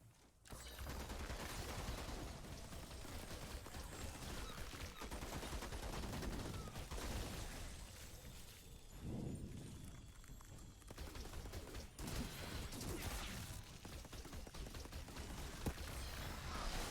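Gunfire in a trailer for the Outriders video game: dense, continuous bursts of rapid shots and explosions with a brief lull midway, set in a loud game soundtrack.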